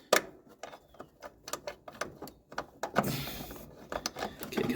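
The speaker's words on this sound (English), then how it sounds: "Get a little bolt started here." A small bolt is threaded by hand into the master cylinder of a 1962 Ford Falcon, giving a close run of quiet metallic clicks and scrapes in an irregular rhythm, with a brief burst of hiss partway through.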